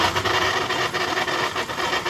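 Small Yamaha Ray Z scooter engine idling after an electric self-start, a steady close mechanical drone with a slightly uneven pulsing beat and no speech.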